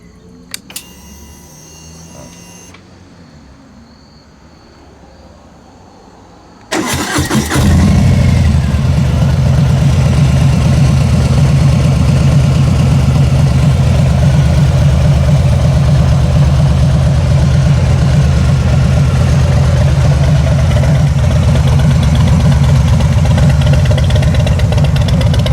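A 2018 Harley-Davidson FXLR Low Rider engine starts with a sudden burst after quiet handling noises, then settles into a loud, steady idle rumble that continues throughout.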